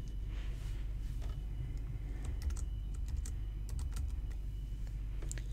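Someone types a new password on a computer keyboard, producing scattered light key taps, close but soft, over a steady low background rumble with no talk.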